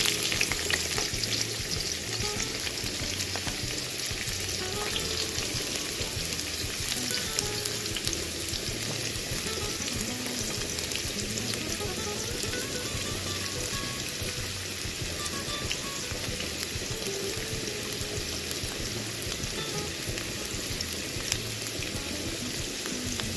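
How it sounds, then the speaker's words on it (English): Onions fry in hot oil in a pan while pilau cooks, giving a loud, continuous close-up sizzle with occasional stirring, steady and unbroken with no voices. "we're going to put oil, let it become hot, and then we are going to add our onions"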